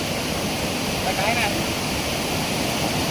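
Water gushes and splashes out of a plastic-can crab trap in a loud, continuous pour, close by for a few seconds.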